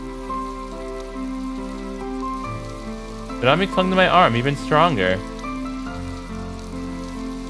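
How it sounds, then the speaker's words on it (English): Rain sound effect from the visual novel Hoshizora no Memoria, a steady soft patter of rain throughout, with a voice talking over it in the middle. "It's probably just a passing rain"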